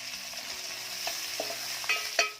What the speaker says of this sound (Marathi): लसणाचा रंग बदलला की त्यामध्ये बारीक चिरलेला कांदा घालायचा आहे